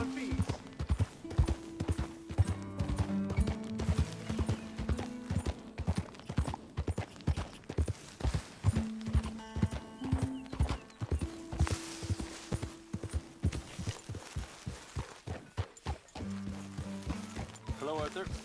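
Horse hooves clip-clop in a steady walking rhythm in Red Dead Redemption 2, close and prominent, with game voices talking over the hoofbeats.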